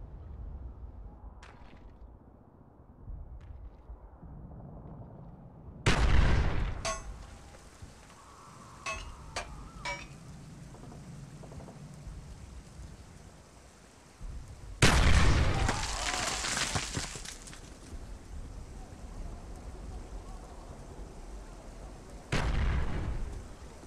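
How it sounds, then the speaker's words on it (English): Grenades are thrown and explode in a video game, with a sharp boom arriving every several seconds, three blasts in all, over a low background rumble. "Throwing grenade!"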